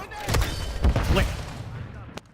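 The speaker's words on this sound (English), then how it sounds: "That was a nice little bullet spam right there." A quick spray of gunfire in a Call of Duty video game, several booming shots in a short cluster, heard alongside voices before fading out.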